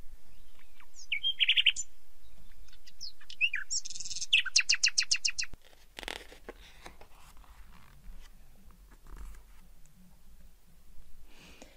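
A nightingale's song plays during a French story reading, with bright trilling phrases and rapid repeated notes in the first half before fading into quieter scattered chirps.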